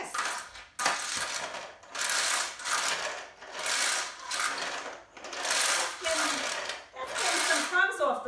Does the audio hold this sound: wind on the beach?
no